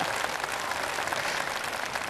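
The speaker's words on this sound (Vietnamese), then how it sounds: "cho một tràng pháo tay" A studio audience on a Vietnamese singing show claps in a dense, continuous burst of applause, steady and fairly loud throughout the short stretch.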